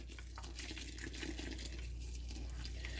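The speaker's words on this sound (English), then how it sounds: "now what I'm going to do is I'm going to put distilled water on it." Distilled water poured onto cabbage for sauerkraut, a soft steady trickle and splash, faint, under a low background hum.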